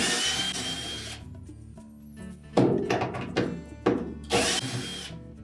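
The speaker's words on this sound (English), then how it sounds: "we'll just go ahead and remove those 4 screws." Power drill spinning out screws from the outer bottom of a Whirlpool washer tub, several short whirring bursts with loud knocks and thunks between them, close up and with no talk.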